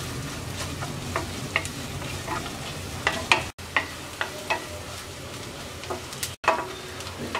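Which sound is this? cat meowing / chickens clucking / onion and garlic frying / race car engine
onion and garlic frying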